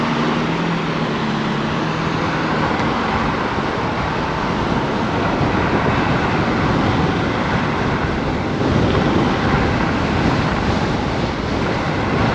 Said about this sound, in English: Be even better if it wasn't so windy.